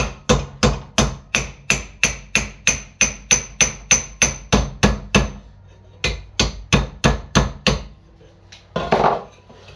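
Steady, ringing ball peen hammer blows strike copper in a quick even rhythm, about twenty hits, pausing briefly before another run, close and loud.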